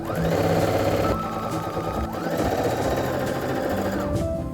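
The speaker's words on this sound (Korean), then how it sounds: "반이 접힌 게 펼쳐지지 않도록 3면을 재봉틀로 고정해 줄게요." A sewing machine runs in long continuous bursts, stitching fabric, a fast rattling mechanical hum that pauses briefly and starts again, close and loud.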